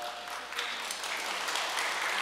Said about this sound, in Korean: 큰 박수로 축하의 격려를 나누겠습니다